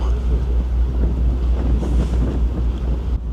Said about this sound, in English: you get more wind up here, which means less people up here